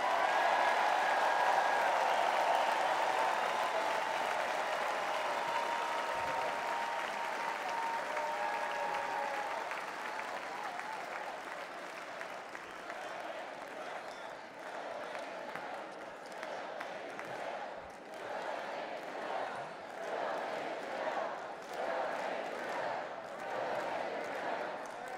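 Large convention crowd applauding a Republican National Convention speech, sustained clapping that starts dense and loud, eases slightly, then swells again with scattered cheers across the hall.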